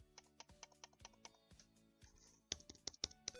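Sharp, quiet clicks from a computer mouse in a Minecraft inventory, coming in an uneven run of single taps and then a louder, quicker cluster near the end.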